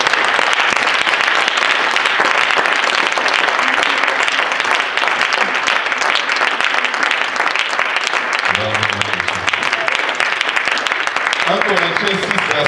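A church congregation applauds steadily for the whole stretch, a dense wash of clapping with voices rising near the end.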